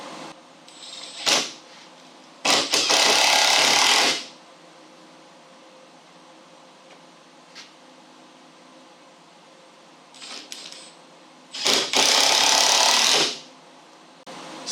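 A power screwdriver drives screws into a wooden wagon frame in two loud, sustained bursts of about two seconds each, close by, separated by quiet handling noise.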